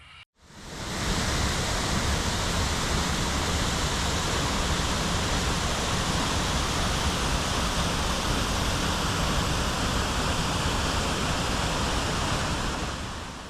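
Rain and a waterfall in a New Zealand national park make a dense, steady roar of rushing water that starts suddenly and stays loud and unbroken, with no voices.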